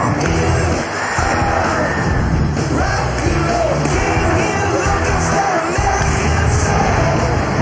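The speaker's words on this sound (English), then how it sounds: "The whoa of a crowd that can't believe what it just saw." A packed baseball stadium crowd roars in a loud, sustained wave of cheering and yelling that swells and holds throughout.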